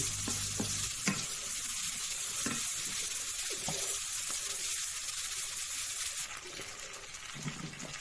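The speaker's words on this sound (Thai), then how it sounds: "ผัดไปเลย บ่มีหมูไม่ยังหรอกนะจ้ะจะใส่ผักแทน" Fried rice with vegetables stir-fried in a hot pan crackles in a dense, steady sizzle, punctuated by repeated scraping and tossing strokes of the spatula.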